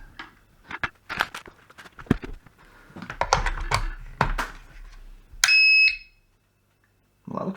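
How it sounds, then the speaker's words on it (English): Gliderol garage door opener controller, faulty and under repair, gives a single loud electronic beep after a stretch of handling and clicking noises, with a short pause of silence following. "I've got a power light on there and it went beep."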